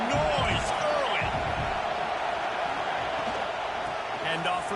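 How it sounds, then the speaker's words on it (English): Stadium crowd in an NCAA college football video game, Michigan versus Oregon: a loud, constant roar of cheering fills the whole stretch, with voices and whistle-like cries rising over a dense wash of noise. "This crowd bringing the energy and noise early."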